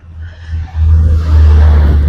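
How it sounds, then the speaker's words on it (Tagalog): Road traffic in the rain: a heavy, low vehicle rumble swells as vehicles pass close by, loud and continuous, with no talk. "Ay, daming sasakyan po."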